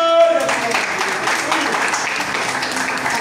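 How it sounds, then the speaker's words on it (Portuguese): A church congregation applauding during an evening service, dense sustained clapping from many hands after a brief spoken phrase, filling the room steadily. "Aplauda mais forte para Jesus"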